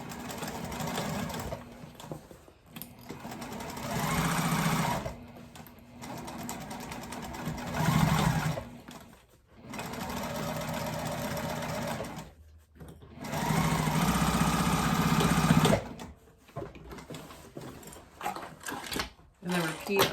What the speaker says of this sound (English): I'm gonna stitch down both side seams